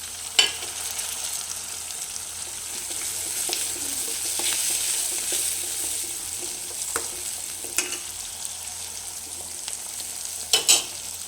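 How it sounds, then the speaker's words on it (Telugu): Chopped tomatoes and onion cook in a pan with turmeric for a chicken curry, giving a steady, even sizzle that holds throughout, with a few scattered scrapes and taps of a stirring spoon. "ఇందులోకి 2 టమాటాలు కట్ చేసుకుని వేసుకున్నాం కదండి, ఇవి బాగా మగ్గిపోవాలి"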